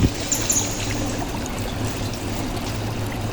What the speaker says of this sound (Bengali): তো পানি যুগ করে নেব